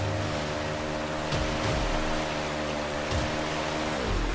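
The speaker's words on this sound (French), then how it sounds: "on va encore éviter des barils qui vont suivre la rivière et il y aura des cascades un peu plus intenses" In Uncharted: Drake's Fortune, river rapids and waterfalls give a continuous broadband rush of water. A low engine-like drone runs beneath it, with a few brief swells along the way.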